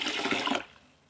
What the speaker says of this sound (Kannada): ಈಗ ಇದಕ್ಕೆ ನೀರು ಹಾಕ್ಕೊಂಬಿಡೋಣ